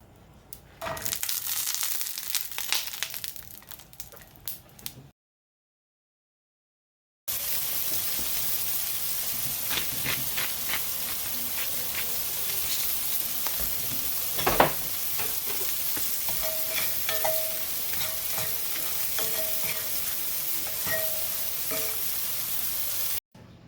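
Burgers frying in a cast iron pan, giving a loud, steady hiss of sizzling fat with occasional pops and scrapes, broken by a brief silent gap early on, no talk.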